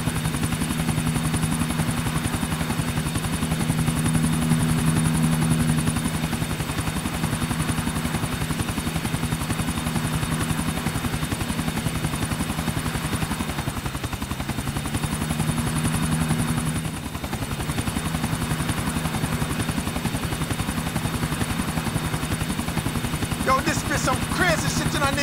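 Steady helicopter rotor drone in Grand Theft Auto IV with a constant low throb, continuous and fairly loud throughout, with brief dips near the middle.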